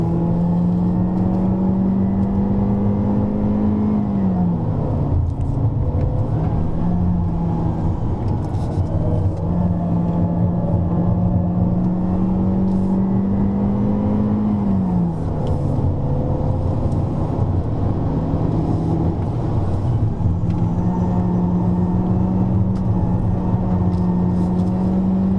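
A Honda Civic RS laps Sepang circuit, its engine droning loud and steady from inside the car, with pitch dips at gear changes before the note climbs again.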